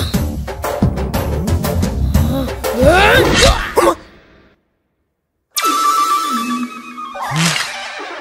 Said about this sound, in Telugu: ఈ రింగ్ టోన్ విన్నావా? ఇది పిల్లల అరుపు.